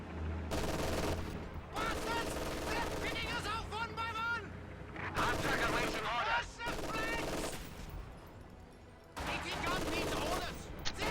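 Machine-gun and rifle fire in the strategy video game Reign 3, loud rattling bursts and fusillades layered with engine rumble and battlefield noise, broken by short gaps, with voices speaking over parts of it.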